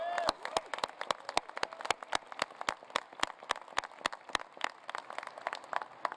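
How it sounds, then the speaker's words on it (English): An audience applauds at a university engineering commencement ceremony, giving steady, dense clapping that carries on throughout, with a brief voice near the start. "Please give Terry a round of applause."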